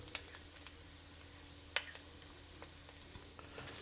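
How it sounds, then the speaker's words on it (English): Chopped garlic frying with mushrooms and shallots over medium heat, a faint, steady sizzle with soft ticks and one sharper click from stirring. "Next, we'll add in 3 cloves of chopped garlic."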